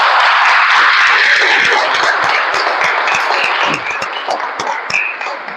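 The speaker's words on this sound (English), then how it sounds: "can we have a round of applause for our club?" Club audience at a District 92 meeting applauding, a dense wash of clapping that fades somewhat toward the end, with a few sharper individual claps standing out.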